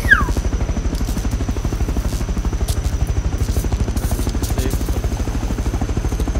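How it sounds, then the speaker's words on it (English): A helicopter in a video game flies with a steady, rapid rotor chop that stays continuous and fairly close throughout, with no talk over it. "I'm taking the heli."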